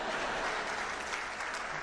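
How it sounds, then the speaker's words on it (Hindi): An audience at a humorous speech breaks into steady, moderately loud applause, a dense clatter of many hands clapping throughout. "अब आपकी तालियां उठेंगी।"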